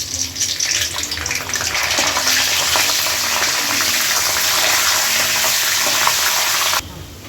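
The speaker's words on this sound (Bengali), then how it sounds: "এখানে নিয়েছি তেজপাতা, দারচিনি, জিরা, লবঙ্গ, এলাচ আর কয়েকটা গোলমরিচ তেলের মধ্যে দিয়ে দিই।" Whole spices (bay leaf, cinnamon, cumin, cloves, cardamom and a few peppercorns) hit hot oil and fry with a loud, dense, steady sizzle for almost seven seconds before it abruptly drops to a softer hiss.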